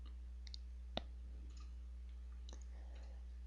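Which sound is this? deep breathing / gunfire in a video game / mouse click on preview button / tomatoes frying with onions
mouse click on preview button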